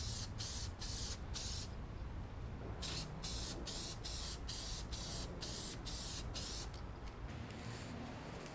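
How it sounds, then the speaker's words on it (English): Spray can spraying paint onto a T-shirt outdoors, a loud continuous hiss with short bursts and brief pauses between presses, running throughout with no talk. "The reason we are doing our spray first is so that it can dry while we get the rest of our stuff set up"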